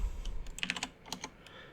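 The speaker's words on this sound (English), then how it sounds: "We're going to start our formula equals and type in filter." Fingers tap out an Excel formula on a computer keyboard in a quick, uneven run of light clicks, close and quiet.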